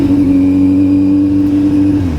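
A Kawasaki Z900 motorcycle engine drones loud and close with a steady, rich tone. The pitch dips slightly right at the end.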